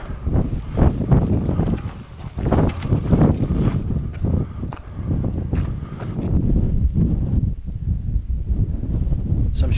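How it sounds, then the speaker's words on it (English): Strong gusty wind buffets the microphone at an exposed coastal viewpoint in southern Spain, loud irregular low roaring blasts that rise and fall, with no speech. "it is very windy here"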